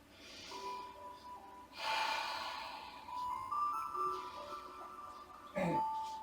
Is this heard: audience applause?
no